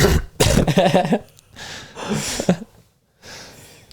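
Several harsh, rough coughs close up, coming in bursts with short pauses between them, the last one fainter.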